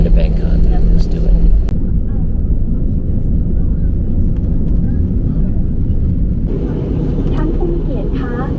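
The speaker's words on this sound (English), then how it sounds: "about to take off for Bangkok, currently taxiing the runway in Surat, Thani." Airliner taxiing on the runway at Surat Thani airport before takeoff for Bangkok, heard from inside the cabin as a steady, loud low engine rumble that persists throughout, with a brief shift in tone near the end.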